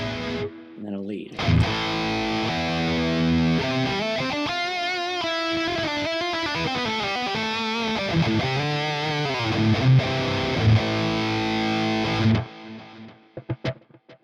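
Electric guitar playing a lead line through a Quad Cortex preset loaded with effects, sustained distorted notes with bends and vibrato over a steady backing, loud and continuous for about eleven seconds before stopping abruptly.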